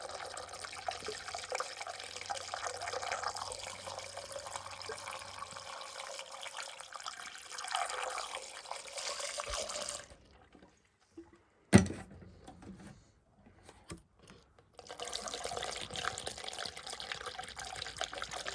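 Antifreeze pouring through a funnel into a boat engine block at the thermostat opening, a steady close liquid pour and gurgle that stops partway, followed by a few drips and clunks before pouring resumes.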